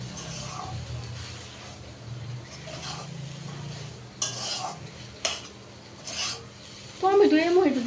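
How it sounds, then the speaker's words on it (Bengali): Noodles stirred in a pan, with dry scraping and rubbing of a utensil against the pan and a few louder scrapes near the end over a low background hum. A brief voice comes in at the very end. "নুডলসটা নাড়া দাও ভালো করে"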